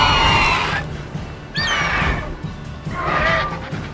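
Loud horse neighs and whinnies from Roach, the horse in The Witcher 3, come in three bursts over a dense, rumbling game soundscape, with the horse being attacked and carried off by a flying monster.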